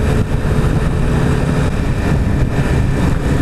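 A 2016 Suzuki Hayabusa engine pulling hard in first gear, a loud, dense, roaring rumble with rushing wind noise, continuous and close, with no talk.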